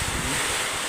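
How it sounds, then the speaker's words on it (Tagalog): Strong wind roars steadily into the microphone, a dense, buffeting rush with no pauses, loud and close throughout. "Lakas ng hangin guys."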